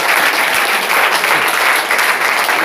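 Steady, loud applause from a church congregation fills the space continuously, a dense wash of many hands clapping without pause.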